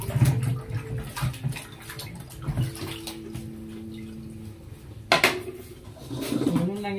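Plates being washed by hand, with wet clinks and splashy scrubbing at close range, running intermittently, and a soft cooing bird in the background.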